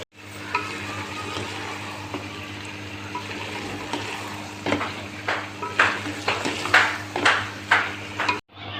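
Vegetable fried rice masala frying in a pan, with a low sizzle under stirring and scraping strokes that grow louder and more rhythmic in the second half, close by and with no talking.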